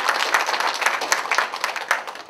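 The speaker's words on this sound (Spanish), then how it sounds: "como un aplauso para Omar, por favor." An audience at a company presentation claps briefly for a regional director, a short burst of moderately loud, uneven applause from a small crowd that tapers off toward the end.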